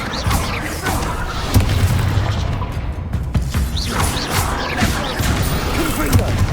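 Bombarda blasting-spell explosions in Hogwarts Legacy, heavy booming blasts with crashing debris and whooshes rolling through a dense, continuous battle din for several seconds.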